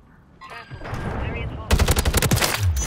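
Rapid automatic bursts from the SOA Subverter rifle in a first-person shooter video game, a loud sustained rattle of closely spaced shots in the second half after quieter game sounds.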